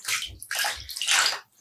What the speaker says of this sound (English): I'm just gonna squeeze out some of the excess water